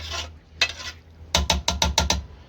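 A spoon clinks and scrapes through a chicken shami kabab mixture in a pot, with one early tap and then a quick run of six rhythmic, close strokes.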